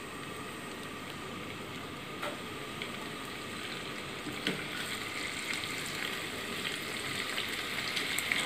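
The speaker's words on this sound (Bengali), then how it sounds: "এখন পাশের চুলে আমি মাছগুলো ভেজে নেব।" Fish seasoned with turmeric, chili and salt fries in a pan, giving a steady, even sizzle and hiss throughout with a few faint ticks and pops.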